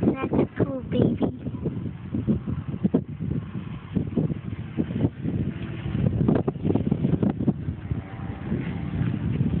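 Gusty wind buffets the microphone outdoors on a windy day, producing loud low rumbling bursts that pulse unevenly, with voices talking faintly underneath.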